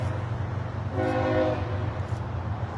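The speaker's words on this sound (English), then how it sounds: "This train is so loud going by me." A train rumbles steadily close by, with a sustained horn blast sounding partway through over the heavy low roar.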